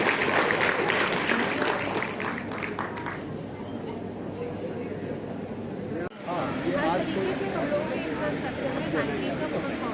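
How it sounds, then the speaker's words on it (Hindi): Audience clapping at an official event in Moradabad, a burst of applause heard over room noise and chatter, fading partway through before crowd murmur continues. "अब इसी अनुपात में तालियां भी तो बजा दीजिए।"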